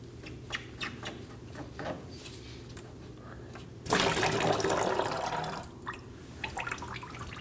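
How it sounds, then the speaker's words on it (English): Coolant splashes out of a disconnected radiator hose into a drain pan on a 2011-2016 Kia Optima 2.4L, a few drips and rubbing sounds followed by a brief gush of pouring liquid that tapers back to drips. "make sure you have a pan underneath because some coolant may still come out"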